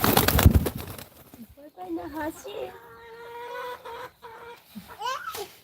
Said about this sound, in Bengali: দেখেন অনেকগুলো কবুতর একসাথে চলে এসেছে